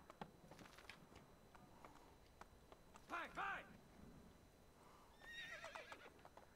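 Hooves clop in a quick rhythm while a horse whinnies twice in Assassin's Creed 2, with someone speaking faintly now and then over the game sounds.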